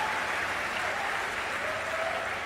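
Audience at a Save Soil event in Hyderabad breaks into sustained applause, a dense steady wash of clapping from a large crowd heard at a distance throughout.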